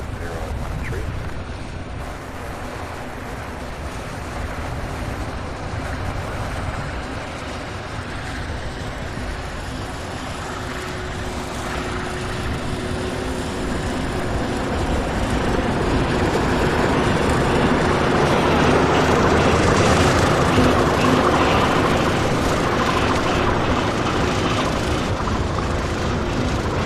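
Jet aircraft taking off from a runway at Louisville's SDF airport, a broad steady roar that slowly builds in loudness over the clip, heard from a distance outdoors with no speech.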